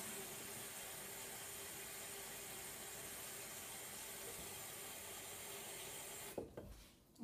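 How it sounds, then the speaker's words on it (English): A kettle of cold water heats on the stove, giving a steady, faint hiss and rumble that holds evenly before a brief clatter near the end. "fill your kettle up with cold water and then put it on a heat"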